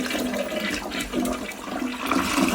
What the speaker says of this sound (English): clean that all out, give it a nice flush.